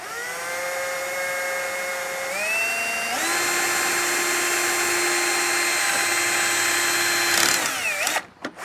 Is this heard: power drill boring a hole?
yes